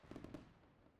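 A firework emote in Splitgate 2 gives a few quick, soft crackling pops in a short burst, then fades into a faint tail.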